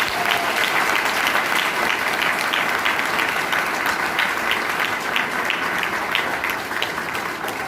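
Steady applause from an audience at a gathering, many hands clapping loudly and continuously with no talk over it.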